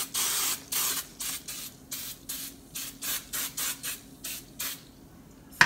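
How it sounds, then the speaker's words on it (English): Repeated short bursts of canola oil cooking spray onto a pan, about a dozen quick hissing pulses in an uneven rhythm, close and fairly loud, with no talking. "I'm going to spray my pan down with a little canola oil cooking spray."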